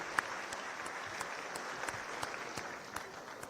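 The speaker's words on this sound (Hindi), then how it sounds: "आप सभी से अनुरोध, तालियां बजा बजा कर इन बच्चों का मनोबल बढ़ाते रहें" Audience applauding children at a defence ministry civilian staff ceremony, a steady dense patter of many hands clapping throughout, moderately distant with no voices over it.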